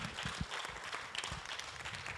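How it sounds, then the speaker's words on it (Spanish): A church congregation claps and applauds at a service, a dense, continuous patter of many hands at moderate level with no voices over it. "Give a big applause to the Lord."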